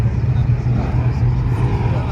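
A Corvette ZR1 drives past close by with a loud, deep engine rumble that stays steady throughout, while people talk nearby.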